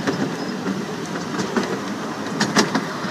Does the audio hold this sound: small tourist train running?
yes